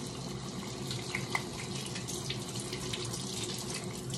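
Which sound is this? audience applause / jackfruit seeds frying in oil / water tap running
water tap running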